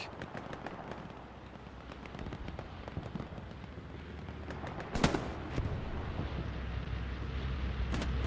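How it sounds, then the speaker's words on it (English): Distant bombing-run explosions rumble and pop through a large 49 vs 49 online battle, with a sharper blast standing out near the middle amid steady background gunfire and wind-like noise. "we can hear the bombing run coming in"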